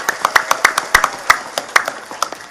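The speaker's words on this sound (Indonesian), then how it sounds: "Saya minta tepuk tangan dulu kangge warga Kampung Bubutulan." A small audience at a village religious gathering claps hands in a loose, uneven rhythm, with sharp separate claps close by and a faint murmur of voices underneath.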